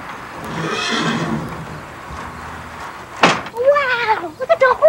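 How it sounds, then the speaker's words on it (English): Horses whinny outdoors, a sharp burst followed by a wavering, descending neigh and further short calls, rising over a steady background with quiet talk earlier. "Wow, look at the horses."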